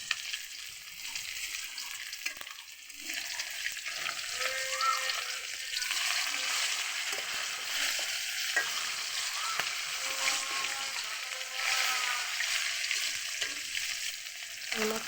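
Fish frying in oil, a continuous close sizzle with occasional stirring clatter and some faint background sounds, with no speech.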